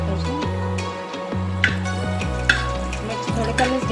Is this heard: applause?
no